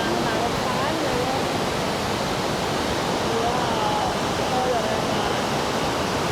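Roar of Iguazu Falls at the Devil's Throat on the Argentine side, a dense, steady broadband rush of heavy falling water that fills the scene continuously, close and loud, with no speech.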